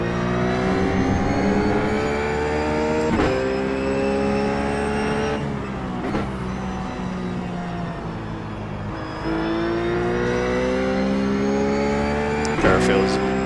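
Ruf GT3 Porsche engine in the iRacing video game at Brands Hatch, a loud, steady high-revving drone through the corners with brief shifts and dips in pitch, while a driver talks over it.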